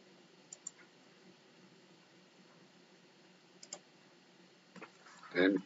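A few scattered keystrokes on a computer keyboard while an AutoCAD Mechanical drawing is annotated, faint separate clicks with a louder cluster at the end, and no speech over them.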